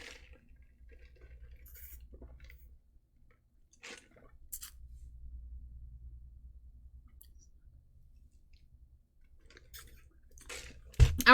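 A person sipping and swallowing water close up, with soft wet mouth clicks and gulps spread across the stretch and a louder sip at the end, no talking.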